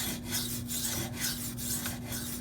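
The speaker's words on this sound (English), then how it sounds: "This is my first sharpening of this Maxamet steel" Maxamet steel knife blade rasping across a Venev diamond sharpening stone in steady back-and-forth strokes, close and even, with a constant low hum underneath and no voices.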